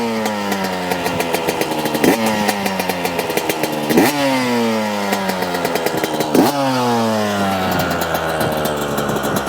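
A 2024 Yamaha YZ125 two-stroke dirt bike fitted with a Smartcarb SC2 carburetor runs up close, idling with a buzzy rasp and blipped several times into sharp revs that fall back down.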